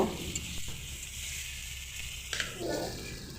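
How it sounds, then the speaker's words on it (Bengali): Young jackfruit and fried potatoes sauté in a pan, a close steady sizzle broken by a couple of brief spoon scrapes and clinks. "ভেজে রাখা আলু দিয়ে আবারও দু মিনিট মতো কষে নেব"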